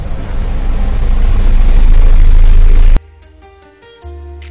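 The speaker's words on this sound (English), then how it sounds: "London bus." A London bus engine builds to a loud, sustained rumble, then drops suddenly to a quieter idle with a short rise at the end.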